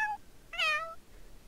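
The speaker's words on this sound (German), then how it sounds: "Ich habe aber gar nicht gehört auf das Miauen." A cat meows twice in The Sims 4, a short chirp followed by a longer, rising-and-falling meow. It sounds close and clear, with nothing behind it.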